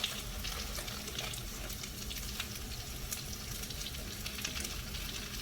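Baby spinach wilting and frying in a hot pan, giving a steady, moderate sizzle with light crackles and pops throughout and no talk.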